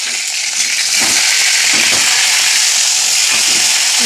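Cumin seeds and bay leaves sizzle in hot oil in a kadai, a steady loud frying hiss that runs unbroken throughout, with a few soft stirring knocks underneath.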